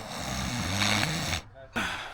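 A man imitates a snore with his voice, a drawn-out nasal rasp that breaks off abruptly, then background noise returns, close to the microphone among friends.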